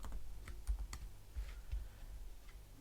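Someone types a short word on a computer keyboard, a few quiet, close key taps spaced unevenly over low room hum, with no speech.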